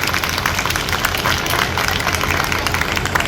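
A crowd claps steadily at a community event in Babarpur, Delhi, with Delhi Police officers present. The dense applause holds for the whole stretch, with a low rumble underneath and no clear pauses.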